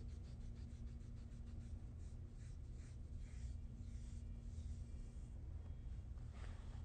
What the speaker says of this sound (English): Gently rub over top of the tape to activate the glue.